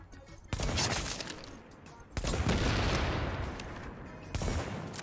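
Bursts of gunfire from The Division video game come in three loud volleys of rapid shots, each followed by a decaying rattle, with no talking over them.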